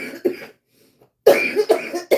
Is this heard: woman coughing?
yes